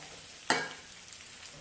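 Vegetables for mixed bajji hit hot oil with a brief sharp sizzle burst, then settle into a faint crackle, quiet and close.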